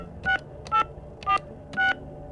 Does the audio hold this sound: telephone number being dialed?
yes